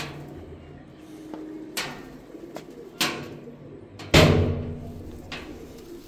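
High-flying pigeons in Punjab flap and shuffle nearby, with several sharp wing bursts and thumps against a low, steady background; soft cooing is faint.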